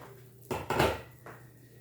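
A metal pan lid is lifted off a pan of oats omelette cooking on low heat, giving a short clatter and a second scraping clink, close and fairly loud against a quiet kitchen background.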